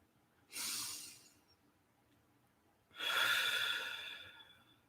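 Two slow, deep breaths, a long airy inhale followed after a pause by a fuller exhale, close and alone in a quiet room.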